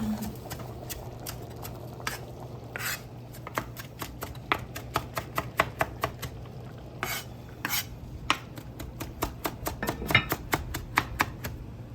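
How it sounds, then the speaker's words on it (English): Red kidney beans sizzle steadily in a pan while a utensil clicks and scrapes against it in irregular taps, close and moderately quiet, no speech. "Ooh, sizzle."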